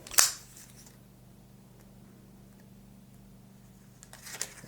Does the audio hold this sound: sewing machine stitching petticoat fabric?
no